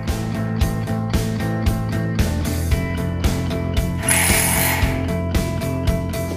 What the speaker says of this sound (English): When placing stud 10 into the top plate, you will twist and push.